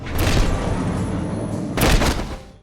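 Gunfire in a Hong Kong action film, heard as two dense, booming volleys of shots with a sustained rumble between them, loud and close, and no voices.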